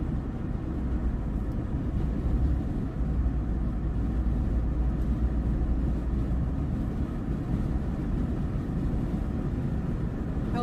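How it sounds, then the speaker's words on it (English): A helicopter flies overhead during a road convoy toward the Texas border, heard as a steady, muffled engine drone that holds evenly for about eleven seconds with no talking. "Helicopter. We got a helicopter above."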